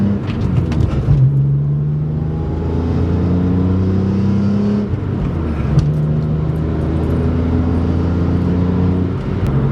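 A BMW E46 M3, still a little cold, pulls hard through the gears with loud engine and exhaust drone climbing in pitch, dropping at each shift around four to five thousand rpm, then climbing again, heard from inside.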